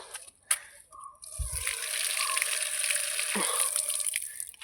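Fresh curry leaves are washed in water, with running water trickling and splashing near at hand, a few brief knocks and taps, and no talking.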